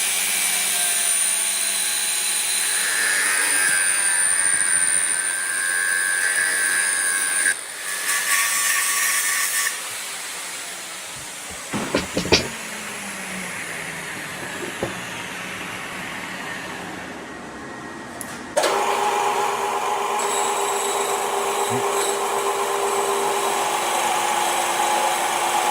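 A high-pitched whining angle grinder runs steadily, cuts out briefly with a few clanks of handling, then spins back up loud and close; no talking.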